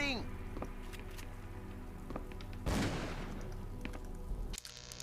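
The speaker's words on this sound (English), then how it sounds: "Keep shooting." In Call of Cthulhu: Dark Corners of the Earth, a single loud gunshot cracks near the middle, surrounded by faint scattered pops and a continuous rain-like ambient hiss, with game sound throughout.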